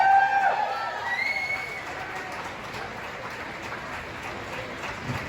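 A crowd at a book signing cheers and applauds as James O'Keefe, CEO of Project Veritas, comes out; a loud burst with whoops and whistles opens it, then the clapping settles into a steadier, softer patter.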